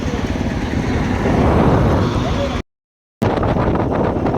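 Strong wind buffets the microphone while riding a vehicle at low speed, a loud, steady roar that cuts out to complete silence for about half a second midway before resuming.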